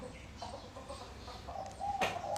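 A chicken clucking in a few short calls against a quiet background, with a brief louder burst near the end.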